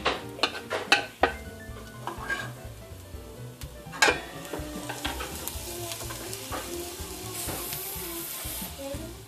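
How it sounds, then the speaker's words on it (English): Garlic frying in oil in a pan, a steady close sizzle with repeated stirring, scraping and clinks of utensil on pan, sharp tapping accents early on, then an even hiss. "So the next thing we're gonna do is fry the garlic"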